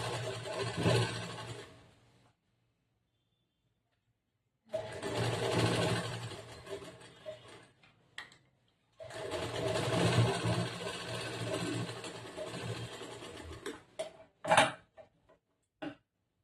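A sewing machine runs in two long stitching bursts on a collar-neck blouse, laying a quarter-inch seam through main cloth and lining, with short pauses and a few clicks near the end.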